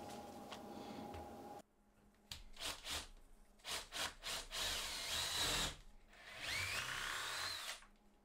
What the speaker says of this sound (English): I'm just gonna get a hole drilled in the bottom